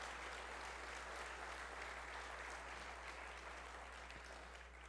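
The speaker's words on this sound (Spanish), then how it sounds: "Dele ese aplauso al Señor. Give that applause to the Lord." Church congregation applauding during a sermon, a steady wash of clapping heard faintly at a distance over a constant low hum, with no talk over it.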